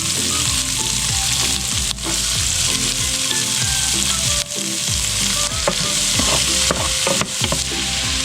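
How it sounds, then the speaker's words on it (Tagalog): Garlic and onion sizzle in hot oil in a pan, a constant loud crackling fry with repeated scrapes and stirring strokes, and no talking. "now we saute the garlic"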